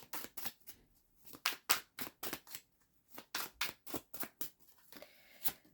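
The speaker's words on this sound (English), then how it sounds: "give it a good shuffle" Tarot cards are shuffled up close in quick, crisp bursts of riffling and snapping, repeated with short pauses between, no voices.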